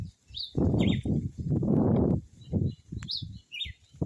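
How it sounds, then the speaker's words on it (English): Jamaican jungle birds chirp in brief high calls, a few short bursts scattered through the clip, faint against much louder low broadband sounds that dominate the foreground. "You hear the Jamaican birds."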